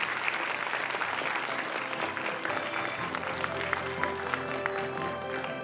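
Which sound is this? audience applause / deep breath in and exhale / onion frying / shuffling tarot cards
audience applause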